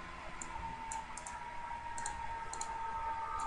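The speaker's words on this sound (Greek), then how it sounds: "διπλό κλικ" A computer mouse gives pairs of quick, light double-clicks, close and crisp, repeated a few times over a steady low hum.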